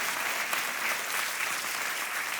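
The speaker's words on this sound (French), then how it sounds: "On dit ça à l'église et les chrétiens applaudissent." Church congregation applauding, a dense and steady round of clapping from many hands throughout.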